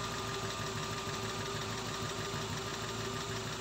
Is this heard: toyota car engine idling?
yes